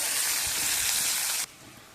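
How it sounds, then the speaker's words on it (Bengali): Onions sizzling in hot oil in a pan, added after whole garam masala and bay leaves, a steady loud hiss that cuts off sharply near the end, leaving a quieter low sizzle. "আমি এখন পেঁয়াজগুলো ভেজে নেব।"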